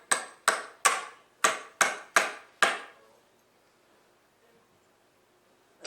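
Seven sharp hammer blows drive a pre-drilled nail into a cigar box guitar at a festival indoor stage, evenly spaced and loud with ringing decay, then stopping into near silence.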